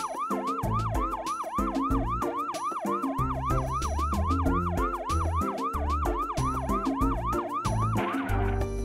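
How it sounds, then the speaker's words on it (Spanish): A loud wailing siren sweeps up and down rapidly and steadily, close by, over a deep rumbling engine, with a brief burst of noise at the end. "¡Camión de bomberos!"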